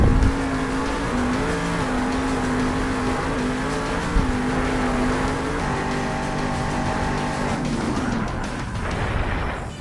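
Blue Thunder monster truck from the Monster Jam video game, its engine droning and revving steadily at close range with shifting pitch for the whole stretch, no voices.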